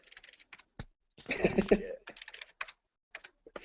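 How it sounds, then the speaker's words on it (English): Someone types a password on a computer keyboard, with scattered light key clicks around a short burst of louder, denser tapping in the middle, close and mostly without talk. "How am I typing in the wrong password?"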